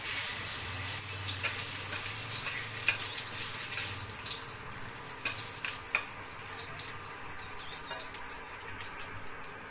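Leaves stirred in a frying pan over a steady low sizzle, with soft scraping and light clicks of the utensil scattered throughout.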